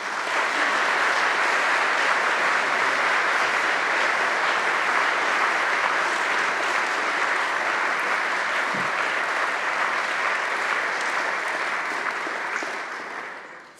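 Sustained applause from a large audience welcoming speaker Tom Wright, steady and loud throughout before fading at the end.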